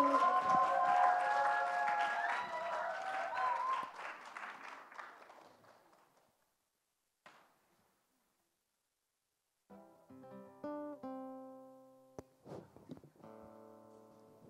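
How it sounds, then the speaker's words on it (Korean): Audience applause at a closing ceremony, a broad wash of clapping that is loud at first and fades out over about six seconds. Near silence follows, and then musical tones come in. "황포아님 큰 박수로 모셔보도록 하겠습니다"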